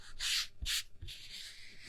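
A wet wipe rubs across a wooden craft block to gather sanding dust, giving two quick close swipes followed by softer continuous rubbing.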